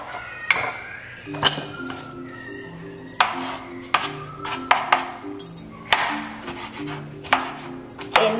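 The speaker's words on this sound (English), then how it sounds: "Now I'm gonna cut the green peppers." A kitchen knife chops green peppers on a cutting board while a Peruvian dish is prepared, giving a series of sharp, close blade strikes in an uneven rhythm. Faint background music and a brief spoken word sit underneath.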